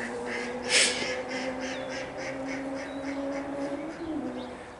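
A group of ducks at a pond in the town of Saintes gives a run of quacks, one louder call near the start, then a rhythmic string of calls over a constant low hum of distant motorbikes.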